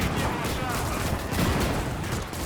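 Tank gun fire in the Gates of Hell WWII battle near Moscow, with rumbling shots amid continuous crackling gunfire throughout.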